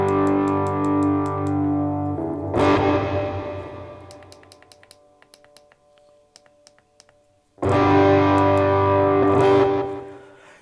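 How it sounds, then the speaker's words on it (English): An electric guitar played through a Lekato PA-1 pocket amp with reverb: distorted chords ring out and decay in a long reverberant tail, with picked notes and a pause before another loud strummed chord. "You either get a little reverb or a lot of reverb."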